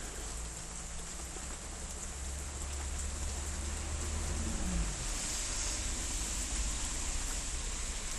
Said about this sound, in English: It's starting to rain pretty heavy now.